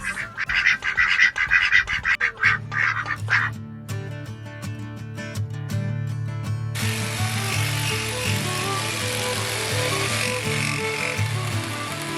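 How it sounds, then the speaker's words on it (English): Ducks quack rapidly for a few seconds, then give way to mechanical clicking and a steady whirring tool noise. "Y'all are some bougie ducks."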